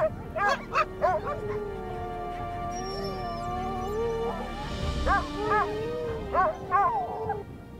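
Wild dogs on the Everest slopes give sharp yips and barks mixed with high whimpering whines, several calls in bursts close by, over faint background noise.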